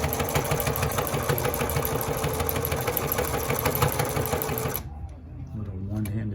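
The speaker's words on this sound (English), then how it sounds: "A little one-handed sewing" A sewing machine stitches a fabric face mask with a fast, steady mechanical whir that runs loud and close for nearly five seconds, then stops abruptly, leaving quieter low room noise.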